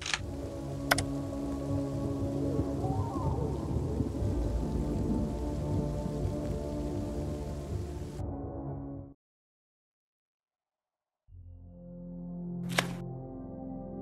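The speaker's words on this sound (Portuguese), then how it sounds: "Ouve um barulho, raios caem" A thunderstorm in the video game Tale of Immortal: steady heavy rain with sharp lightning cracks near the start and end, broken by a brief silence in the middle.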